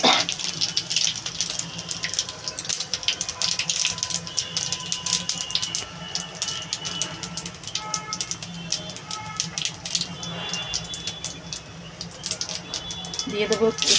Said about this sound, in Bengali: তেলটা আমার গরম হয়ে গেছে, দিয়ে দেবো জিরা।